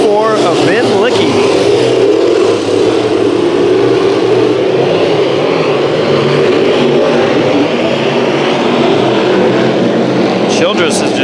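Race cars in a speedway heat race at Santa Maria Speedway, a steady loud engine roar holding for the whole stretch with a commentator talking over it.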